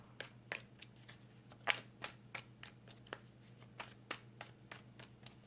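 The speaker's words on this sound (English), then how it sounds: "I'll say while I'm shuffling" Tarot cards are shuffled by hand, a steady series of crisp, close riffling snaps at a quick, fairly even rhythm over a faint background hum.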